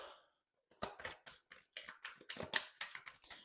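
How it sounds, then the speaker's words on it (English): A quick series of papery shuffles and riffles of tarot cards, about a dozen soft bursts in an uneven rhythm, close and fairly quiet. "One last good shuffle, please."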